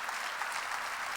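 Church congregation clapping together during a sermon, a dense steady wash of applause sustained throughout with no break.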